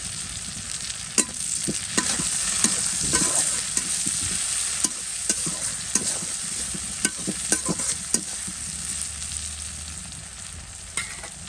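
Spices and aromatics fry in a pan with a constant close sizzle while a spatula stirs, scraping and tapping against the metal in an irregular rhythm throughout.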